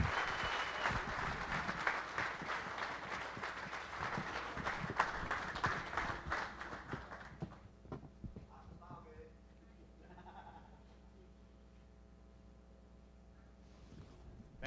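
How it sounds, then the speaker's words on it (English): Crowd applause for a panel of twelve competition judges at an open event, dense broadband clapping for about seven seconds before fading to a quieter room with faint voices. "So how about another round of applause for 12 of the very best judges."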